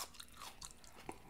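Soft, close crunching bites of raw onion, a few irregular crunches over about a second, quiet and with no talking.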